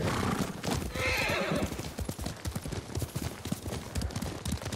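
Horses in a feudal Japanese battle setting in Ghost of Tsushima, with a whinny near the start, then rapid clip-clop hoofbeats galloping close and loud in a driving rhythm.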